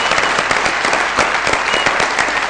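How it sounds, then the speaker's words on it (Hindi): A TV studio audience breaks into dense, sustained applause for a guest on a Pakistani comedy show, loud and continuous clapping with no pauses. "बहुत सारी तालियां सोहेल भाई के लिए"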